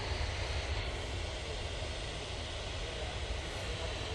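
An EasyJet airliner passing at Manchester Airport, heard as a steady, broadband jet-engine roar that holds at an even level throughout, with no talk over it.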